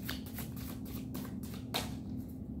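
Tarot cards shuffled briskly by hand, a run of crisp riffling flicks and slaps close up, with no talk over them.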